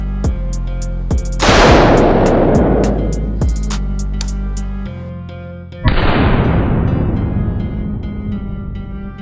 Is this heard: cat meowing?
no